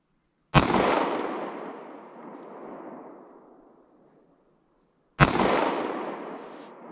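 Two sharp, loud 9mm shots from a pocket pistol loaded with Fiocchi Defense Dynamics rounds, fired outdoors at a 100-yard target among trees, each crack trailing off in a long rolling echo, several seconds apart.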